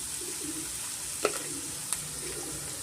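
Onion fries with salt and turmeric for a spicy mushroom pepper curry, giving a soft continuous sizzle with a couple of sharp utensil taps against the pan.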